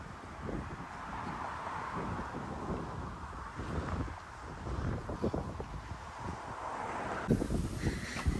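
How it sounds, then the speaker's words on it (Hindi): A strong wind blows outdoors on a residential walk in Canada, buffeting the microphone with a steady, loud, roaring rush that swells and gusts throughout, with no one speaking. "इस वक्त हवा चल रही है बहुत ही तेज़"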